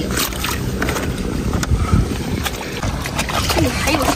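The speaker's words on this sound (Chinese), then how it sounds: "你看，这风很大" Strong wind sweeps across a beach during low-tide seafood gathering, roaring and buffeting the microphone in continuous gusts, with muffled voices faintly underneath.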